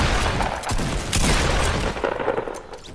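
Gunfire from a player in the video game Fortnite: a dense, continuous rattle of shots and impacts that thins out toward the end, loud and close, with no talking.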